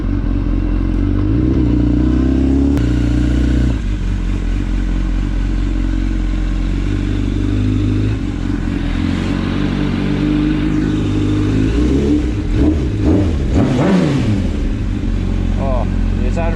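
A 1000cc motorcycle being ridden and accelerating, a loud continuous engine drone with rising and falling revs and wind rush, a rider's voice briefly over it.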